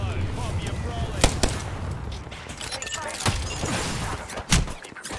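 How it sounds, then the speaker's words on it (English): Gunfire in a shooter video game, with sharp repeated shots and bursts under a steady din of game effects and background voices, loud and close. "Being shot at."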